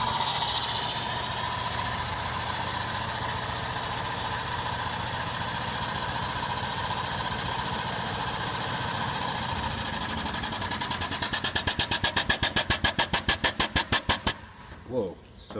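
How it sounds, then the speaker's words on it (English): A TPH 2600S hydraulic pump runs with a steady mechanical drone as its piston builds pressure, the strokes slowing into distinct rhythmic thumps near the end before stopping abruptly. "you heard how the piston started to slow down a bit as it built pressure"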